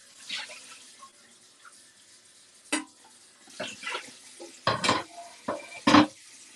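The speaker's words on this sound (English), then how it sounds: "I'm going to rinse this pan out." A pan being rinsed under a kitchen tap, with intermittent splashes and gushes of running water, short bursts separated by quiet gaps, close and moderately loud.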